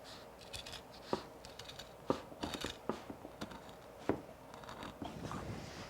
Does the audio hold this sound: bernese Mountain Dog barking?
no